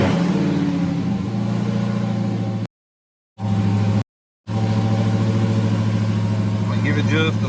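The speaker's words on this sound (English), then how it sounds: "Put my foot on the brake and go ahead and start it." Dodge Hellcat V8 fitted with a ported 99mm throttle body cranks and fires, settling into a loud, steady rumbling idle with brief gaps in the sound, while someone talks over it.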